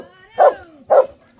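A dog gives two sharp, loud barks close by, evenly spaced about half a second apart, in an otherwise quiet home setting.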